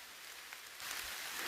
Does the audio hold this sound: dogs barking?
no